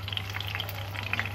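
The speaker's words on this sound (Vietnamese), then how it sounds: "khi mà các bạn chiên đậu vàng tất cả bốn mặt như thế này rồi" Tofu frying in a pan, browned on all four sides, with a steady soft sizzle and scattered crackling pops under a low background hum.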